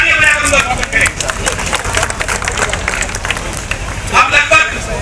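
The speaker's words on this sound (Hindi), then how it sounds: "आप तालियां बजाकर उनका स्वागत करें" A large crowd at a public gathering claps steadily, a thick continuous rattle of many hands with murmuring voices mixed in, close and fairly loud throughout.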